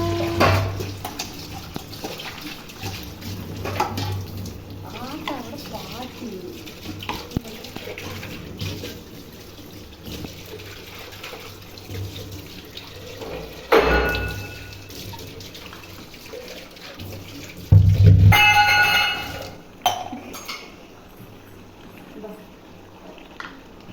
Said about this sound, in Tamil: எந்த அளவுக்கு நமக்கு குழம்பு இருக்கணும் அப்படிங்கிறதுக்கு ஏற்ற மாதிரி நம்ம தண்ணி ஊற்றிக்கலாம்